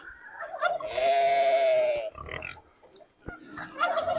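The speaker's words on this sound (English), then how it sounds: "Say hello, little piggies." Pigs on a small farm grunt and squeal close by, a long loud harmonic squeal in the middle framed by shorter snorts and calls.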